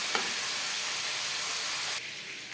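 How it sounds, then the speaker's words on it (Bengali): Spices fry in oil on a low flame, giving a continuous even sizzle and hiss that drops abruptly quieter near the end. "লো ফ্লেমে মশলা ভাজবো"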